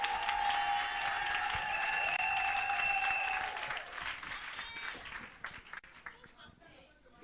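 A church congregation breaks into loud applause and cheering, sustained for several seconds before fading into scattered claps and murmurs.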